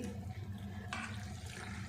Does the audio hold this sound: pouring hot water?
yes